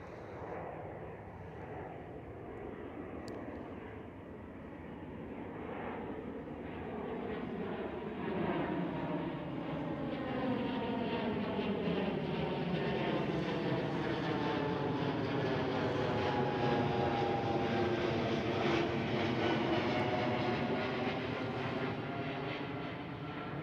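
A KLM Cityhopper Embraer E2 jet aircraft at Schiphol Airport roars steadily and loudly, its engine rumble rising and sweeping past with shifting whine, sustained for over twenty seconds with no talking.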